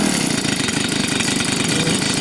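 A Stihl leaf blower's small two-stroke engine, under repair after failing to stay running, idles steadily up close, a loud, even buzzing putter that holds without change and is heard alone.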